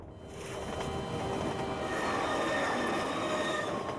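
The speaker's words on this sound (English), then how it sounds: "Yeah, that was definitely a train." A passing train in the Half-Life 2 VR game gives a steady, fairly loud rumble with metallic rail squeal and clatter running throughout, alone with no talk.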